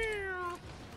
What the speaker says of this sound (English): What is a cat and why is it meowing at me now?